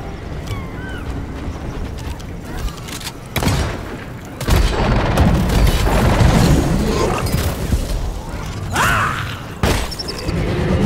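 Heavy mechanical clanks and booming thuds from a light-deploying mechanism in Deep Rock Galactic, layered over a dense rumbling game backdrop, with a few sharp metallic hits and a long grinding stretch in the middle.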